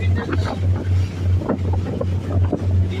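A boat cruising on open water off the Andaman Islands near Port Blair, heading north, gives a steady low engine drone under constant wind buffeting and water wash, close and continuous throughout.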